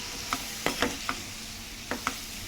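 Curry being stirred in a pan right after a spoonful of salt goes in, with a handful of separate scraping clinks from the spoon over a soft, steady background hiss.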